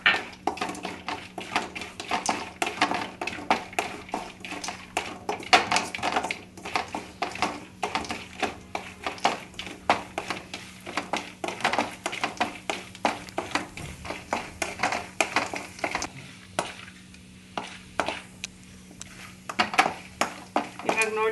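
Almonds frying in a spoonful or two of ghee in a home kitchen pan while making coconut ladoo with dry fruits, heard as steady close sizzling with frequent light clinks and taps of a spoon against the pan throughout.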